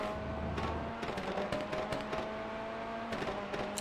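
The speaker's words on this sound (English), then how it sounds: "Our car is backfiring a lot." GTE race car in iRacing at the 12 Hours of Sebring, its engine droning under sharp popping backfires that crackle irregularly, several quick bursts scattered over the steady engine tone.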